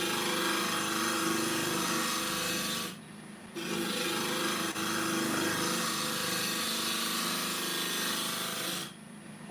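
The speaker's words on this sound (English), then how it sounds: "I've just angled the carbide, so it's not taking quite a severe cut, it's doing more of a shearing cut at the minute" Continuous rasping scrape of an angled carbide lathe tool taking a shearing cut on a spinning olive ash bowl, loud and close, with two brief pauses where the cut lifts off.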